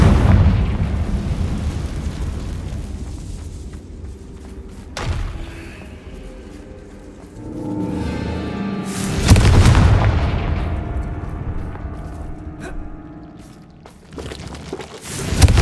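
Confringo blasting spell explosions in Hogwarts Legacy, several heavy booming blasts with deep thuds, the loudest near the middle and another at the end, close and forceful over a quiet game background.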